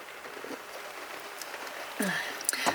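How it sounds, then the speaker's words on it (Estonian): Steady rain falls outdoors on a wet, snowless Christmas-season day, a soft continuous patter throughout, with a couple of sharper knocks and a brief rise near the end. "Väljas on imeline jõuluilm muidugi, vihma sajab"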